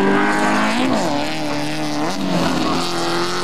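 A Fiat 133 rally car driving hard, its engine note droning and shifting in pitch as the revs rise and fall, loud and continuous.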